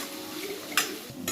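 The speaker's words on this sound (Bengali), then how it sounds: "পেঁয়াজটা ভাজা হয়ে গেছে," Onions fry in a pan for a chicken kosha, a steady sizzle running throughout, with brief clatter from a spoon stirring against the pan's side.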